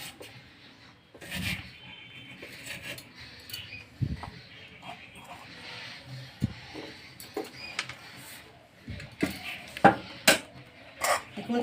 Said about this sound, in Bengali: এইভাবে আমি কেটে নিলাম আমগুলোকে।